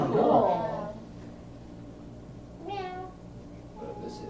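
A cat meows in a game jam video game, a loud close cry at the start followed by two fainter meows, with no talk over them.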